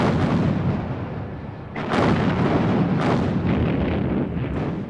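Heavy booming blasts of World War I naval gunfire roll out over a constant rumbling din, two big thuds standing out, loud and close.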